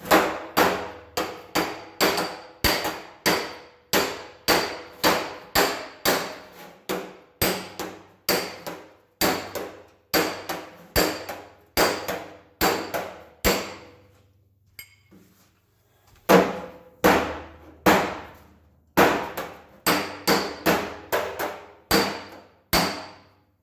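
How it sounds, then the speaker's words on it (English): Hammer striking sheet metal against a dolly to knock a dent out of a car body panel: a long run of sharp, ringing metallic blows at a steady rhythm, close and loud, pausing briefly before resuming. "I'm actually trying to hit this on the dolly."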